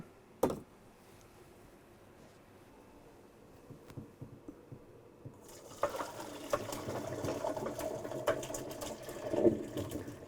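Boiled potatoes poured into a colander to strain, with water gushing and splashing that builds up after a quiet, rustling start and continues steadily at close range.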